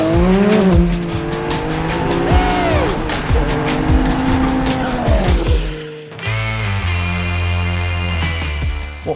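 A Porsche 962 Group C race car screams through fast corners at high speed, its engine note rising and falling with gear changes, tires squealing, loud and close throughout.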